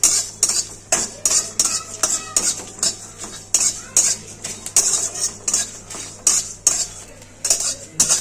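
Whole spices such as fennel, bay leaf, dried red chilli, cumin, cloves, cardamom and cinnamon dry-roast in a pan, a metal spoon scraping and clinking against it in a steady, repeated stirring rhythm, close and clear with no talk.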